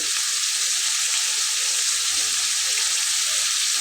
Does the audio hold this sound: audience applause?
no